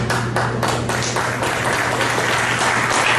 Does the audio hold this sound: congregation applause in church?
yes